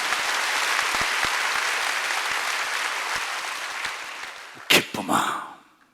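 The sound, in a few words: applause, audience clapping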